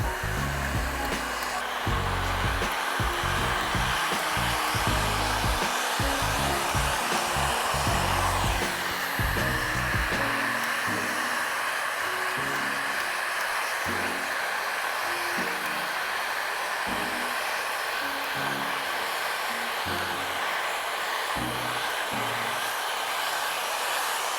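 A heat gun blows a steady, loud whooshing roar while heating and shrinking window tint film on a car windshield, running continuously with no speech.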